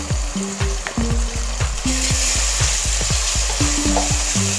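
Chettinad masala with Kashmiri red chili powder fries loudly in a pan, with a steady sizzle under repeated, rhythmic scrapes and knocks of a spoon stirring the paste.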